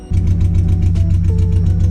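Mazda Miata engine after fuel system work, starting abruptly and settling straight into a loud, steady, rumbling idle with an even pulsing beat, with no talking.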